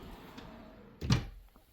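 Drawer in a home office sliding open, a single close wooden thunk and rattle after a quiet stretch, fading into near silence.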